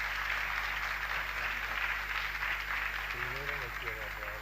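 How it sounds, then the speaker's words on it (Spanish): Audience applause at a lecture hall during a keynote conference, a steady wash of clapping heard at a distance beneath a constant low hum, with a voice starting to speak near the end. "los aplausos nos indican algo"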